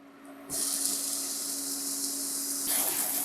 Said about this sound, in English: we're just gonna take the meat patties and throw them in the pan. Sizzle in.